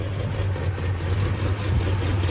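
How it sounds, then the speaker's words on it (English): A 1978 Dodge Magnum's old Mopar V8 engine idles steadily with a low, slightly uneven, shaky throb, close and continuous with no talking. "a little shaky idle, but that's an old Mopar."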